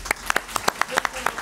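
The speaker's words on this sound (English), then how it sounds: "Ask the board members and the audience to give Mr. Outlaw a round of applause" Audience and board members applauding an education award recipient at a board meeting, a short burst of scattered claps at moderate volume.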